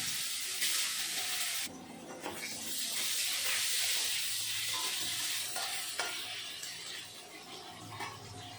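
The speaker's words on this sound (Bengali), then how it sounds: "এই তেলের ভিতরে ভেজে নেব আলু" Potatoes frying in hot oil, following fried fish heads, for a Bengali fish curry with drumsticks: a steady, close sizzle with bursts of hissing as the pieces are stirred, and no talking.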